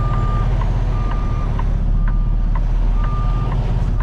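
A Kenworth truck sounds steady, evenly spaced reversing beeps while backing up on a New Orleans street, the high tones cutting through a constant loud diesel engine rumble, with no talking.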